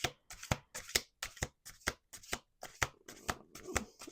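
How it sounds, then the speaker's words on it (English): Tarot cards riffle-shuffled by hand in repeated quick bursts, about nine crisp flutters with short pauses between, close and clear with no talking. "let's do 2 more shuffles here"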